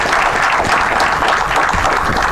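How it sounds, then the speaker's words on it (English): Seminar audience applauding together, a dense, steady wash of clapping that stays loud and even throughout, with no voices rising above it. "give them a big round of applause once again"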